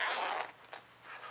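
Zipper on a double-zipper toiletry bag drawn open in one short, close rasping pull that fades, followed by a quick final tug.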